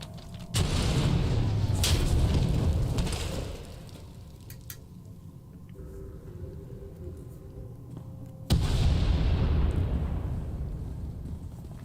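Explosions and a collapsing tunnel in the video game SWTOR, two loud deep booming rumbles that each die away slowly, separated by a quieter stretch of low rumble.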